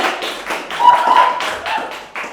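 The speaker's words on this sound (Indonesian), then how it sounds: "Tepuk tangan dulu dong." A small group claps for a guest on a student organization podcast, giving a short run of sharp, evenly paced hand claps close to the microphone, with a voice mixed in.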